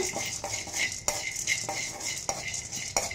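Roasted gram and a few cashews being stirred in a pan, a spoon scraping and clinking against the metal in a repeated rhythm about every half second, close, with no voices.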